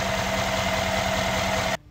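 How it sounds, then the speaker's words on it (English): The V8 engine of a 2013 Mercedes-Benz ML550 SUV idles with the hood open, a steady low rumble with even pulsing and a faint whine, close by, cutting off abruptly near the end. "Big V8 engine."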